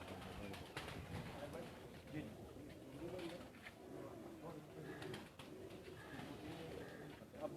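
Pigeons kept on a rooftop coo softly and repeatedly, quiet and fairly close, mixed with faint background voices and ambient noise.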